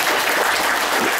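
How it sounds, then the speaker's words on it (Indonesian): Loud, dense clapping from an audience at a live motivational seminar, continuous and close throughout the short moment. "Tepuk tangan buat dia"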